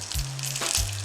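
Bacon frying in a pan, a close, steady crackling sizzle with faint pops and a low hum beneath, heard alone without talk.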